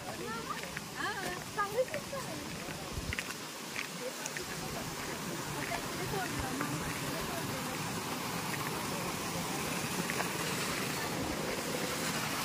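Clean water pours steadily at a waterfall near Dapoli, giving a broad, constant rushing wash with some wind buffeting on the microphone and a person talking over it.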